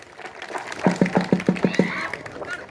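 At an Indian kushti wrestling match, a crowd breaks into about seven quick, evenly spaced rhythmic claps, close and loud, with voices around them.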